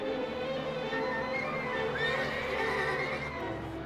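A horse neighs loudly and close by, a long wavering whinny with a harmonic, drawn-out quality that rises and falls over a few seconds, with no talk over it.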